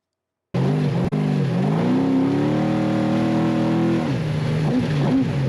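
Baja 1000 race truck engine caught by an in-car camera, a loud continuous roar rising and falling with revs, plus a brief thump early on, close and rough with wind and vibration.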